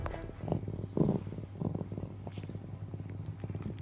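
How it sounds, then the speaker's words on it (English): Snow leopard or Eurasian lynx purring steadily at close range, a low rumbling drone with rhythmic pulses and swells, heard alone without talk. "Both snow leopards and Eurasian lynxes can purr."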